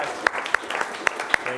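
Brief audience applause at a tech meetup, a thin spread of clapping with a few sharp, distinct claps standing out and voices over it.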